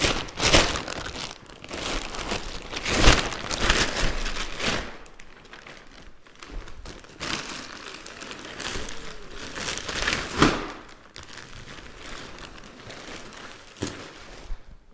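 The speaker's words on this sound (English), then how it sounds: "remove the outer plastic" Plastic wrapping on a boxed latex mattress crinkles and crackles in repeated loud bursts up close, with quieter rustling between as it is pulled and peeled away.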